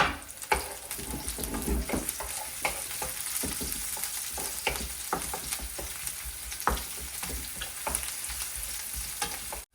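Ginger, garlic and chili fry in a pan with a steady close sizzle, punctuated by irregular scraping and stirring clicks throughout.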